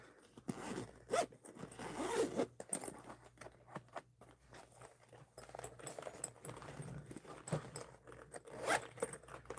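A mesh zipper pocket on a bag is unzipped in several short, close, quiet zip strokes with small rustles and pauses between them.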